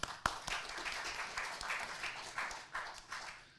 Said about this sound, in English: Big applause for Rachel